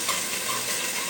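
Worcestershire sauce, about two teaspoons, sizzles in an overheated pan of cocktail meatballs, a steady loud hiss of frying that holds through the whole moment without any talk.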